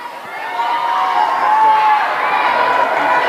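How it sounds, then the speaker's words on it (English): Children at a school's end-of-term assembly cheer and whoop together as a loud, steady crowd roar that holds for several seconds. "we got one more cheer"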